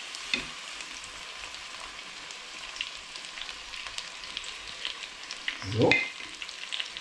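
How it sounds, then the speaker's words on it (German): Chopped onions and garlic frying in a Bosch Cookit, a steady close sizzle throughout with a brief stirring clatter near the end and a single short spoken word early on. "Und das Ganze wird jetzt bei 140 Grad nochmal 3 Minuten weiter angebraten."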